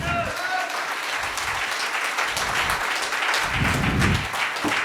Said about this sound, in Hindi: क्या एक बार अपने आप के लिए तालियां नहीं बजनी चाहिए?